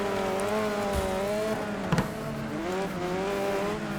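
A car engine drones and shifts pitch in a racing video game, a steady near tone with a brief thump near the middle and no talk.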